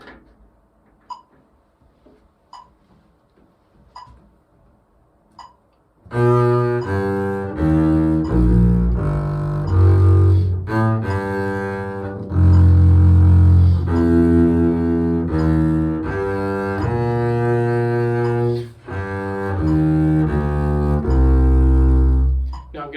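A slow bass audition excerpt plays note by note over a steady metronome click at about half tempo, which ticks alone for several seconds before the low notes come in.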